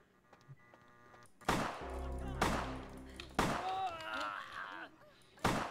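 Gunfire in the video game Vampire The Masquerade: Bloodlines, three or four loud booming shots spaced about a second apart, each with a ringing decaying tail, mixed with game voices and sounds.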